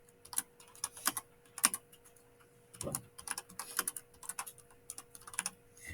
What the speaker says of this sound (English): I'm going to type in keep a clean machine.